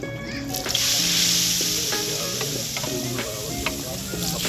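Hot baghar tempering is poured into a pot of haleem at a large outdoor cooking event, bursting into a loud, dense sizzle that holds steady, with utensil clinks and faint crowd murmur behind.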